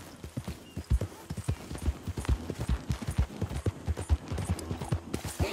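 Horse hooves clip-clop in quick, steady rhythm in Red Dead Redemption 2, close and moderately loud, with no one talking.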